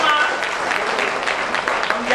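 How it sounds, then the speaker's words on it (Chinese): Guests at a business association evening event applaud themselves, a brief burst of crowd clapping heard fairly close and steady, with some voices mixed in underneath. "俾啲掌声俾自己好唔好？ 一些掌声给自己。"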